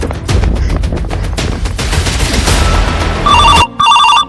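Telephone ringing loudly in two short electronic trills near the end, following a dense stretch of loud clattering, noisy sound.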